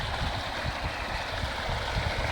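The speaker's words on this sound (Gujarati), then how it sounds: "પાણી ચાલુ જોઈ લ્યો" Irrigation water runs steadily through a channel in a farm field, a continuous close rushing and gurgling with no voices.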